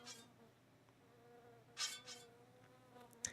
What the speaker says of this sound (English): Just hearing the bees flying around is a little disconcerting.